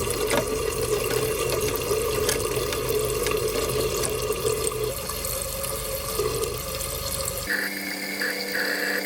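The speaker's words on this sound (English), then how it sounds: "always flush the toilet again. Let it fill up all the way." Water rushes steadily as a toilet tank refills after a flush with a new fill valve, a continuous near hiss and gurgle that shifts to a thinner, higher trickle toward the end as the tank fills.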